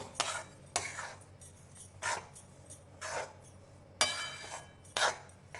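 Spoonfuls of ghee go into a pan of roasting besan, marked by about six sharp metal spoon clinks against the pan, spaced roughly a second apart over a quiet background.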